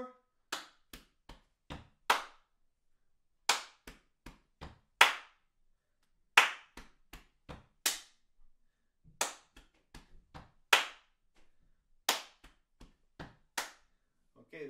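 Body percussion pattern of a clap, two chest taps, a stomp and another clap, looped several times: sharp, close percussive hits in a steady repeating rhythm with brief gaps between cycles, no talking.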